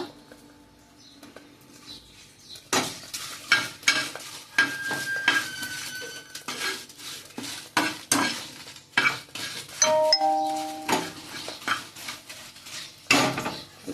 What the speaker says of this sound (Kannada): ಒಂದು 10 ಬ್ಯಾಡಿಗೆ ಮೆಣಸು ಹಾಕಿದ್ದೀನಿ. ಅದನ್ನು ಫ್ರೈ ಮಾಡುವ. ಅದರಲ್ಲಿ 3 ಬೆಳ್ಳುಳ್ಳಿ ಹೆಸರು ಹಾಕಿದ್ದೀನಿ. ಒಟ್ಟಿಗೆ ಫ್ರೈ ಮಾಡುವ.